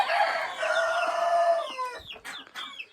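Several backyard chickens cluck and squawk close by in their coop, a busy overlapping chorus of hen calls with a short crow-like note, no talking.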